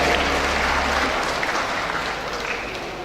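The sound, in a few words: audience applause at graduation ceremony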